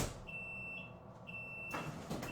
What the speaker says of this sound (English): Okay, and there goes our timer.